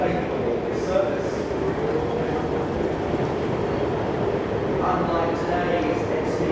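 The Southern Aurora train running along the goods line through Lidcombe, Enfield and Sydenham in New South Wales, a steady broad rumble of wheels and carriages held at an even level, with faint brief tones drifting over it.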